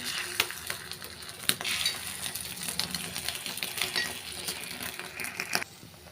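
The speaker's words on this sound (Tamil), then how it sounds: "பாருங்கள் எல்லா குழியிலுமே நான் வந்து முட்டையை வந்து ஊற்றிக்கிட்டேங்க அப்படியே வெந்த உடனே பரட்டி விட்டுக்குருவோம்" Egg paniyaram sizzles steadily in the wells of a paniyaram pan, a dense crackling hiss with scattered sharp clicks and taps of a utensil, close and continuous, with no talking.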